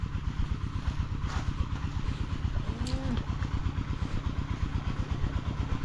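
A motorcycle engine runs steadily close by at a farm harvest site, its rapid, even low-pitched putter holding a constant clattering rhythm throughout with no voices.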